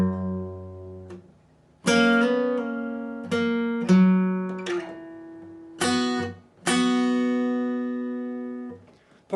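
Guitar slowly playing part 7 of a song, a series of separate plucked chords and double-stops, each left to ring and decay before the next, close and clean with no talking.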